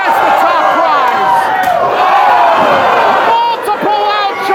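A wrestling crowd at a live match roars loudly and steadily throughout, a dense wall of cheering and yelling with a brief dip near the end.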